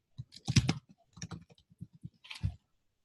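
Keys tapped on a computer keyboard while entering a password, a fast irregular run of close clicks with brief pauses, quiet and alone.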